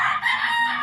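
Rooster crowing with hens clucking inside a spacious chicken coop on a farm, a sustained loud crow filling the short moment without any talk.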